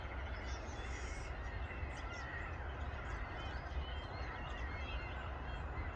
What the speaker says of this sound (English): It's just birds everywhere.